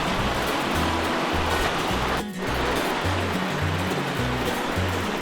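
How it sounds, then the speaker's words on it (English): A small stream tumbles down a hillside past boulders, a steady close wash of flowing water with no voices. "we found a little stream coming down the tail"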